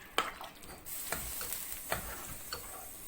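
Peas with a spoonful of sugar stirred in a frying pan under a steady soft sizzle, the spoon tapping the pan a few times at irregular intervals, quiet and close.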